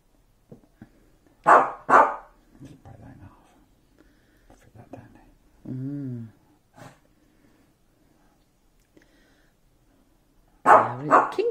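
A household dog barks a few sharp, close barks in a kitchen while corned beef and mash are layered, with quiet background sounds and brief talk between the barks.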